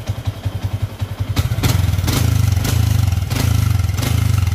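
A Yamaha Sniper 150 motorcycle with a buffed stock exhaust pipe revs nearby, a pulsing idle rising into repeated throttle blips with a rattling, clattering edge.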